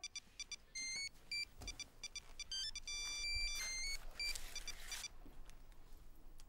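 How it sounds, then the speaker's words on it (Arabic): A mobile phone ringtone plays a series of repeated electronic melodic beeps in short bursts, moderately quiet over a faint background with some rustling. "رد على الموبايل"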